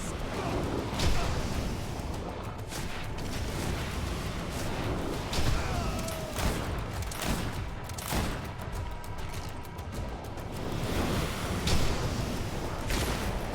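Repeated bursts and sharp cracks of in-game explosions and gunfire in the action game Greedfall, with dense, noisy blasts that follow one another over a continuous rumble.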